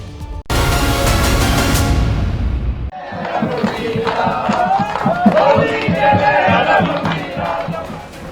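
A dense crowd of devotees celebrating Holi outside the Kartikeya temple in Sambhal: a loud blaring burst opens, then sustained shouting and cheering from many voices, close and continuous.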